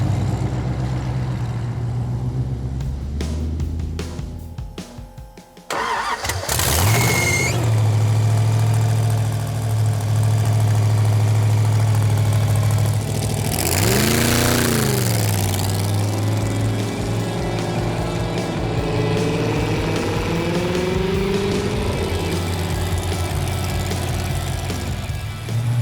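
A street-legal '32 hot rod dragster idles with a steady low rumble, then fires up louder and revs as it pulls away, its loud engine note rising and falling close by without speech.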